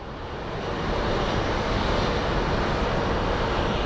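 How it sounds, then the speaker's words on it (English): An Airbus A350 passes over Sky Harbor International Airport, a broad steady jet roar that swells in the first second and then holds loud and full, with no voices. "The A350 is overflying the airport."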